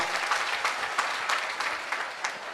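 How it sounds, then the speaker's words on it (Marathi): An audience at a large organized public program claps loudly for the organizers, a dense, steady burst of applause lasting a few seconds with no voices over it. "आपण जोरदार टाळ्या वाजवा आयोजकांसाठी"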